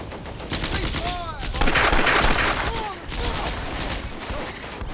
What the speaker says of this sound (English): Yes, you're shooting, finally.